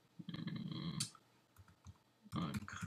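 Clicky keystrokes on a computer keyboard come in two short bursts with a quiet gap between, close and fairly soft, while typing a filename in image software.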